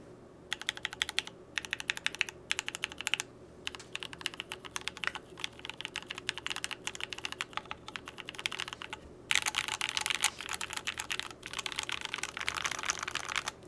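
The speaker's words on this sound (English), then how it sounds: "Now, I put Gateron yellows in this thing that have been lubed, and quite a fantastic sound, but take a listen to the full sound test." A Keychron Q2 keyboard fitted with lubed Gateron yellow switches typed on at a steady pace, with soft rapid keystrokes in bursts separated by brief pauses and heavier presses near the end, close and alone.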